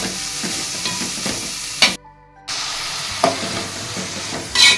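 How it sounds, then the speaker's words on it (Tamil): Chopped onions sizzle and fry in a pan for vada curry, with occasional stirring scrapes and a steady hiss close by; a short quiet gap breaks the frying midway. "வெங்காயம் கொஞ்சம் வதங்கட்டும்."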